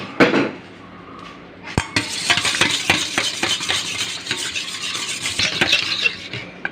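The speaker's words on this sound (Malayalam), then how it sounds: "എന്നിട്ട് നമുക്കിത് നന്നായിട്ട് മിക്സ് ചെയ്യാം." Eggs and half a cup of sunflower oil being mixed for cake batter in a bowl, giving a steady run of close clinking and tapping strokes against the bowl, with no speech.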